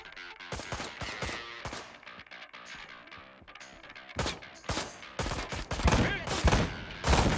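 Gunfire in the video game Ride to Hell: Retribution, bursts of rapid shots and fusillades building louder toward the end, with a voice talking over the action.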